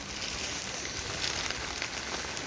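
Steady rain falls outdoors with a dense, even hiss that carries on without a break. No voices are heard.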